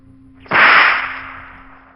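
A whip swings and cracks once as a sharp, loud snap followed by a fading swishing tail, heard alone over a faint background hum.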